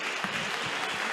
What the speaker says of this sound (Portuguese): dando uma salva de palmas bem alegres para Jesus